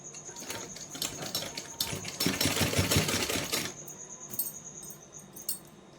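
A sewing machine runs stitches along the pleats of a small Laddu Gopal summer dress, with a steady mechanical whir that swells louder for a couple of seconds midway and then drops back to soft clicks and hum.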